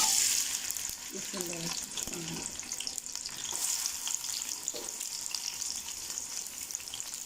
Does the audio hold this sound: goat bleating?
no